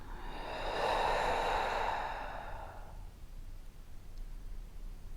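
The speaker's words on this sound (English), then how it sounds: "Take a slow, deep breath in, and then a slow, deep breath out" A slow, deep breath during a gentle yoga session, a long airy exhale swelling and fading over about three seconds, close and soft, followed by quiet room hiss.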